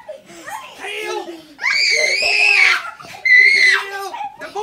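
Children scream and shriek with laughter during a pillow fight with a grandfather, in bursts of loud, high-pitched screams close by, mixed with giggles and an adult's voice.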